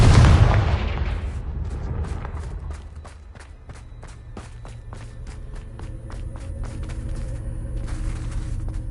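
A Confringo spell blast from the PS5 game Hogwarts Legacy hits with one loud booming burst at the start, then decays into a long ringing tail with scattered sharp clicks and impacts.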